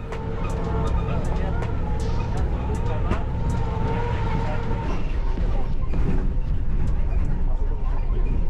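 A tour vehicle in Kazakhstan jolts along a rough, bumpy road. A loud, continuous engine and tire rumble is broken by scattered knocks and thumps, and voices speak over it.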